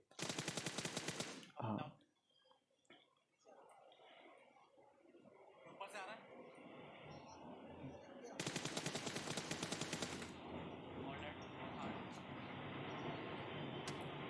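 Sniper rifle shots and rapid gunfire in the battle royale game PUBG Mobile, a Kar98 and AWM with 4x scopes, loud sharp bursts at the start and middle over continuous game background noise.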